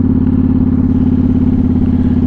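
Motorcycle engine idling or cruising steadily, a loud close rhythmic low thrum with even pulsing and no variation over a couple of seconds, no talk.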